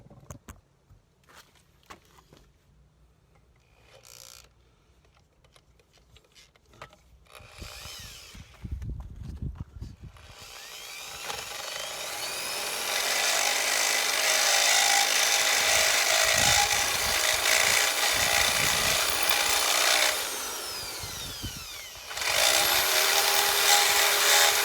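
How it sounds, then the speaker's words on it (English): A power drill bores out the fuel line fittings of a 1993 Toyota MR2 Turbo to take larger AN fittings: scattered handling clicks at first, then a long, loud whirring grind of the drill with one brief pause. "we got to drill it out quite a bit in order to get those AN fittings to fit in there"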